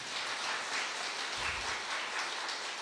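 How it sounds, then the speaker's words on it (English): A congregation at a gospel gathering claps steadily and loudly for about three seconds, a dense wash of hand claps with no voices over it. "Can you give a very big clap on Jesus Christ?"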